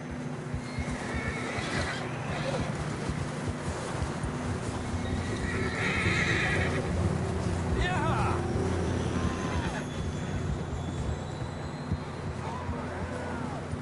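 In Red Dead Redemption 2, horses whinny and neigh amid galloping hooves, with steady rumbling motion noise and voices speaking underneath.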